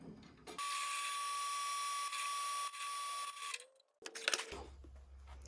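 A power drill boring a hole through a wooden Fender-style guitar neck held in a clamped jig, a steady high whine for about three seconds, followed by a brief pause and clattering handling noise.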